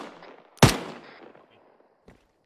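A gunshot during an airsoft or military-simulation game: one sharp, loud crack with a fading tail, followed by a faint, quick click-like shot a moment later, in an otherwise quiet scene.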